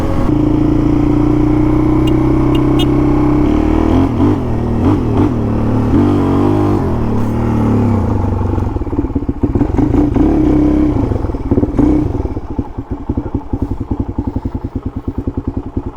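A Suzuki DRZ400 motorcycle engine revs hard and steadily up close, then drops back into a choppy, pulsing idle with mechanical clatter, loud throughout with no talk.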